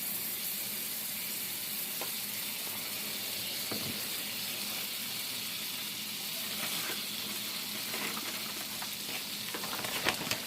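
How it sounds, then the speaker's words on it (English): Butter melting in a skillet over medium heat before pork chops go in, a steady low sizzle that crackles more busily toward the end, with no talk. "got my skillet on a medium heat. I'm just gonna take about yay much butter, stick it in there."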